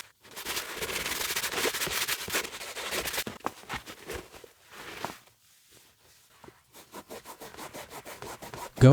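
White leather Nike Air Force 1 sneakers being scrubbed, giving close, dense rubbing and brushing strokes that come in bursts, then fade into sparse quiet scratches and taps.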